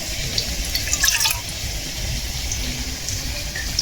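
Water pours into a cup in a kitchen during cooking, a steady close trickle with a short brighter splash near the start, over faint background noise.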